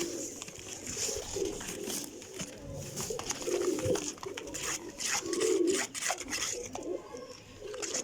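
Several golden pigeons coo in repeated low, rolling phrases, with a faint background hiss and scattered clicks and rustles.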